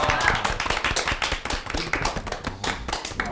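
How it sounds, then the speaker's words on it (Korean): A small group on a golf course applauds a good shot, with close, uneven hand claps and taps in a brisk, irregular patter, loud and near, with faint voices mixed in. "박수 한번 나와야죠."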